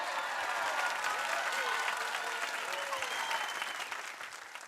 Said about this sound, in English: Let's give a big round of applause for the So-and-So Show